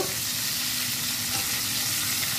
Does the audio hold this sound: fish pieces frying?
yes